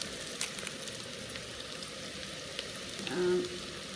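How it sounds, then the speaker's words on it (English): Onions frying in a pan with bay, curry and pandan leaves for Sri Lankan chicken biryani give a soft, steady sizzle and crackle, close and low in level, with a brief stirring scrape near the end. "And fry it until the onions are brown."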